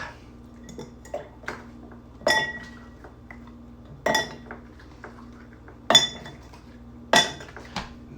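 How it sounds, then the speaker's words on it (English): Ice cubes dropped into a drink glass, a handful of sharp clinks and clatters arriving in separate bursts against a quiet background with low hum. "And let's add our ice."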